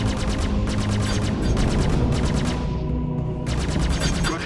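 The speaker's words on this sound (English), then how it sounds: "Good hit. Keep firing." Spaceship guns fire in a Star Citizen dogfight as rapid, loud bursts of repeated shots, with a short pause before the firing resumes, over a constant engine drone.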